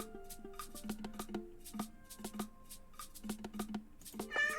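Cat meows in the video game 100 Cats, a rapid series of short, tonal mews repeating over a soft game backdrop, ending with a louder caterwaul.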